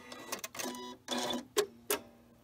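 A sewing machine with a walking foot runs in reverse to tie off a quilt's stitching, giving several short, uneven mechanical bursts separated by brief gaps, close and fairly loud.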